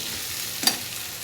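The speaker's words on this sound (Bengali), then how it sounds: "আগেই দিয়ে দিচ্ছি পেঁয়াজের সাথে, যাতে একটু ভাজা হয়" Potatoes and onions frying in a pan together, with a steady close-up sizzle and one brief clatter of stirring partway through.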